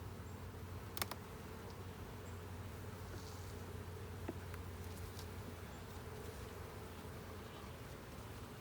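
Honeybees hum in a steady, dense drone around an open swarm hive during an inspection, with a couple of faint clicks and taps over the constant buzzing.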